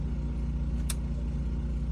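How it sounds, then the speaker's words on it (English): A gasoline generator runs steadily at a storm-watch spot in Salem, Massachusetts, a constant low engine drone with a brief faint high click partway through, with no talk. "You can actually hear our generator running right now"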